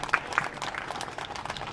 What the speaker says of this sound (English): quick round of applause for these 4 exhibitors.